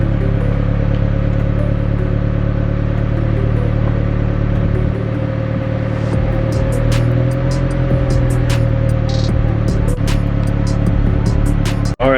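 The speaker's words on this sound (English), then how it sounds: "So now I can pull in the car" A Honda Del Sol's engine drones loud and close as the car creeps in at low speed, a steady mid-low hum with faint clicks and ticks toward the end.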